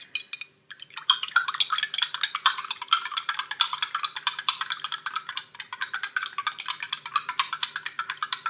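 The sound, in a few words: stirring lemon juice into water in a cup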